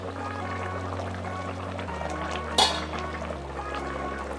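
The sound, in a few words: potatoes added to boiling chicken curry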